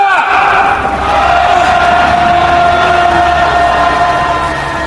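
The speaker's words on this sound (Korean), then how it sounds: "투쟁의 함성 한번 질러보도록 하겠습니다" A large rally crowd of workers roars a sustained protest battle cry outdoors, a loud continuous wall of massed shouting that holds steady for several seconds.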